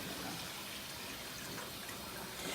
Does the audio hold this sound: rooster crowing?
no